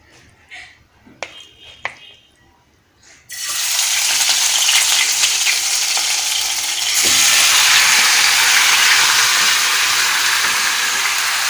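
Marinated beef drops into half a cup of hot oil in a pot, setting off a sudden loud, steady sizzle that fills the rest of the clip after a few quieter handling clicks at the start.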